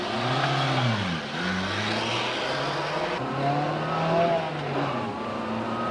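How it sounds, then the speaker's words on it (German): A 1963 Opel Kadett A accelerates hard from standstill to 100 km/h, its small engine rising in pitch through the gears with audible shifts, steady and fairly loud from inside the car. "Beschleunigungsprüfung von 0 auf 100."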